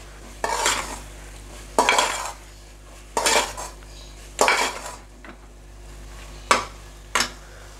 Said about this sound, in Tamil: இந்த மிளகாய் தூளை நல்லா இப்படி வதக்கி விட்டுடுங்க